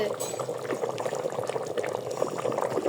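Curry bubbles vigorously in a pot in a home kitchen, a dense, continuous gurgling that fills the clip while a voice talks over it.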